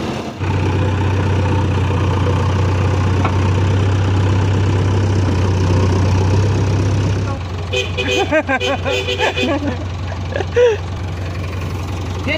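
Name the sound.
four-wheel tractor engine idling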